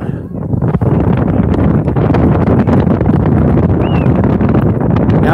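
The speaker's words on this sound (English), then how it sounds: "Now we've got a very strong wind." Strong wind buffeting a microphone beside a football pitch during a match, a loud continuous low roar that barely lets up, with faint distant sounds of play underneath.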